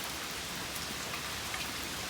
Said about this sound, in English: It's still raining out there.